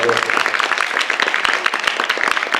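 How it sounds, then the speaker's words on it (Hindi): Audience applause in a theatre for the director of a stage play, a dense, steady patter of many hands clapping close by for a few seconds, with a brief low tone at the start. "रचना जी के लिए जोरदार तालियां हो जाएं"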